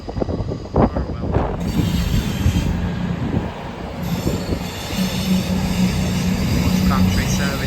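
A train departs Bristol Temple Meads railway station, loud and close, with rumbling wheels, a high steady squeal and a continuous roar of railcars rolling past under the station's echo.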